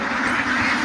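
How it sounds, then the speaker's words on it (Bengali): Many ducks quacking together at a duck farm, a dense, continuous chorus of overlapping calls close by, steady and loud throughout. "দেখুন আমার পিছনে কত হাঁস"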